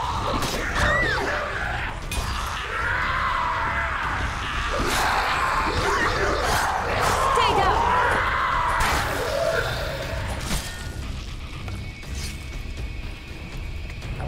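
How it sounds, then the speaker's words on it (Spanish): A crowd of people screaming in the video game Dead Island inside a medical pavilion, a dense, continuous wall of panicked yells and shrieks mixed with crashes and booms, loud throughout. "¡Se oyen muchos gritos!"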